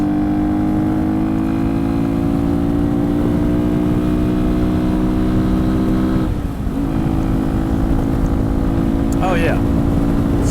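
A Yamaha XT225 motorcycle cruises at speed in 5th gear, its engine holding a steady, loud drone throughout with a brief dip partway before resuming, continuous and close.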